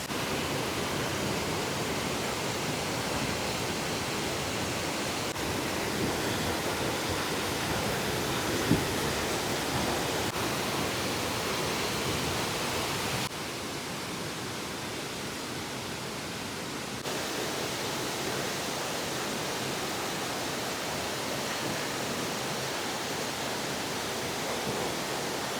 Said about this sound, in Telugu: చూసేయండి రావణ వాటర్ ఫాల్స్ అందాలు.